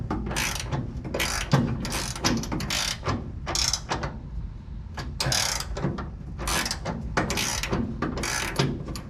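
A wrench ratchets a nut tight on a QA1 car suspension part, giving repeated loud clicking bursts in quick strokes with short pauses between them, close to the microphone.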